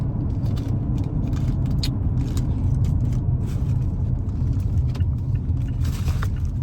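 Inside a moving car on the road to a village in Ukraine, a constant low engine and road rumble fills the cabin, with light rattles and jingling on top.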